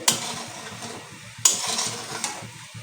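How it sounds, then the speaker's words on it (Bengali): Sugar being stirred by hand into boiling water for cardamom-flavoured syrup in a home kitchen, close and fairly quiet, with soft scraping strokes and two sharper clinks against the pot over a steady low bubbling. "একটু এভাবে নেড়ে চেড়ে দিলে খুব তাড়াতাড়ি চিনিটা গলে যাবে তো জলটা খুব ভালো করে ফুটে গেছে"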